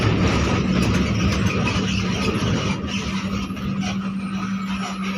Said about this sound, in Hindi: एकदम ही लोग रुक जाते हैं बड़े दूरी की बस आ रही